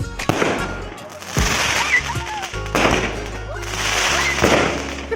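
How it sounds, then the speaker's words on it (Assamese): Skyshot fireworks burst in a quick series of sharp bangs and crackles at a wedding, each loud report followed by a brief fading hiss. "এতিয়া স্কাইশট মাৰিব ৰব বোমা ৰব দেখাই আছো"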